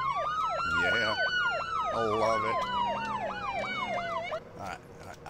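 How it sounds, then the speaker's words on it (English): A police car siren from the Police Simulator: Patrol Officers video game wails in steady rising and falling sweeps, loud and continuous throughout, with a brief remark from a man over it. "Yo, let's hit some siren."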